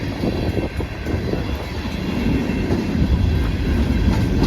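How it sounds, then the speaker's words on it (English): CSX M327, a freight train, rolls past during a snowstorm with a loud, steady rumble of railcars and wheels on track, building slightly in intensity and heard alone without voices. "There's the engine train, guys."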